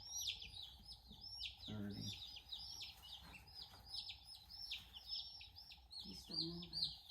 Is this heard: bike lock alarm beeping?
no